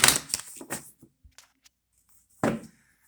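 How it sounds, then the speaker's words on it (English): A tarot card deck being shuffled at close range, with two quick bursts of riffling and soft card handling at the start, a few faint taps, then another brief shuffle burst near the end. "Last shuffle, you versus them,"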